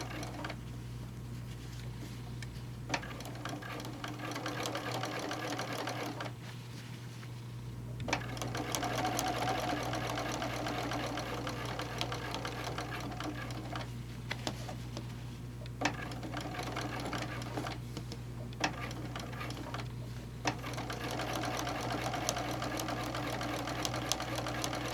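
A sewing machine top stitches a fabric bowl cozy, running in long close bursts of rapid rhythmic needle patter separated by brief pauses, with a low steady hum beneath.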